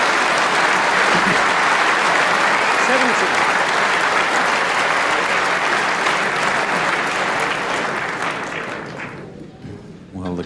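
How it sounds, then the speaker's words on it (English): A snooker crowd gives sustained, loud applause after a shot. The clapping holds steady for about eight seconds and then fades out, with commentary voices underneath. "the crowd knew this one was in before we did, Dennis"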